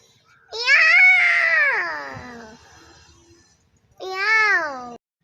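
A person imitates a cat with two drawn-out, wavering meows, the first long and sliding down, the second shorter after a pause.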